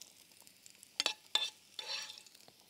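Fried onions are tossed into a pot of soup. There are a couple of sharp spoon-and-pot knocks, then a brief soft sizzle as they land, all quiet and close.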